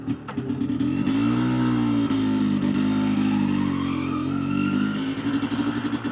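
An MZ ETZ 250 motorcycle rides along with a steady, loud close engine drone that rises and falls slightly in pitch as the bike moves, with no talking.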